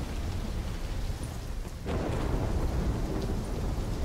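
A thunderstorm in Call of Duty Black Ops 3 gives steady heavy rain with a rumble of thunder that swells midway and holds, a dense continuous wash throughout.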